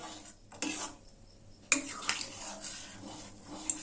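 A spoon stirs ghee through a pot of vegetarian dalia khichuri with soft scraping and a few light metallic clinks, recorded close and fairly quiet.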